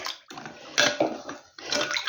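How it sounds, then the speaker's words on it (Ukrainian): Cold water, about 400 ml, poured into a marinade for pickled eggplant in a home kitchen, a splashing, gurgling pour in a few bursts with brief pauses, close and moderately loud, with no talking. "Заливаю сюди 400 мл води, холодної води."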